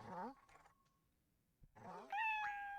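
A cat meowing in the Okami video game, two short meows, the second brighter and drawn out, heard close and fairly faint.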